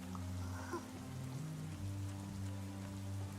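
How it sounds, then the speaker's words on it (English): Steady rain pours down as a soft, even hiss of drops on surfaces in the video game Goddess of Victory: Nikke, faint and continuous beneath low sustained musical tones. "Rain starts to pour down from the sky."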